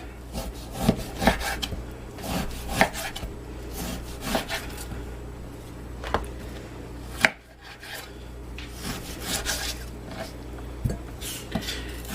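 A knife cutting up beef for pressure canning, chopping steadily on a wooden board with repeated dull knocks and rubbing strokes, close and moderately loud over about twelve seconds, no voice.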